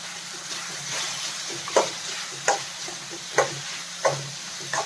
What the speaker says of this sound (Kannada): ಇದೆಲ್ಲ ಸ್ವಲ್ಪ ಚೆನ್ನಾಗಿ ಫ್ರೈ ಆಗಬೇಕು